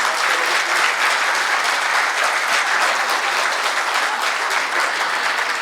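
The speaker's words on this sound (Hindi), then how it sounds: "एक बार भरपूर तालियां अकील नोमानी साहब के लिए।" Full, steady applause from a mushaira crowd for poet Aqeel Nomani, a thick, even roar of many hands clapping with no break and no talk over it.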